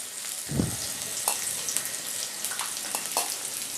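Onion frying in a pan for a bhorta dish, giving a steady close hiss of oil with a few clinks and scrapes of a utensil against the pan.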